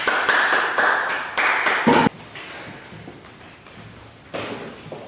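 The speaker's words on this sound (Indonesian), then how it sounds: "Beri tepuk tangan dong." A class of students applauds a classmate after a narrative text presentation, a short burst of near hand clapping that stops abruptly, then the room goes quiet before another brief round starts.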